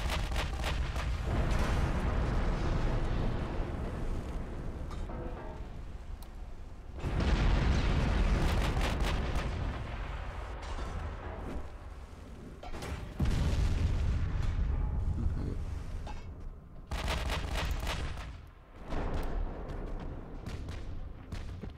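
Battleship main guns fire in the naval combat game Ultimate Admiral: Dreadnoughts, heavy booming salvos breaking out in repeated bursts with rumbling decay between them, loud and close, with no speech.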